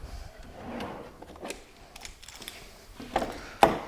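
A clamp is tightened to lock a stop block extension on a miter saw bench, heard as close scraping, ratcheting and mechanical clicks that end in one louder knock, with no talking.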